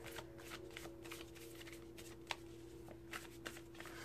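Oracle cards shuffled during a card reading give soft, close riffling and sliding with a few light taps, quiet and continuous.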